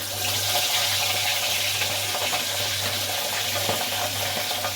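Katla fish pieces frying in oil in a wok give a continuous dense sizzle with a low steady hum underneath, close and even in loudness throughout, with no talking.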